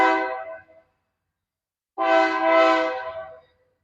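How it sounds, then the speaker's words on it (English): Freight train horn at Roseville station in California, two loud blasts, a short one followed after a pause by a longer sustained one, clear and near with no talk. "Oh, there's our train now."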